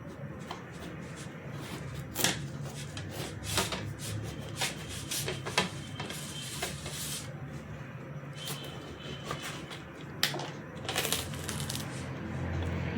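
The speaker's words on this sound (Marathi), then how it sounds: "मी इथं कलिंगड कापून घेत आहे." A knife cutting through a ripe red watermelon, giving crisp, scraping cuts with sharp crunchy strokes repeated irregularly over a steady background, close to the listener and without speech.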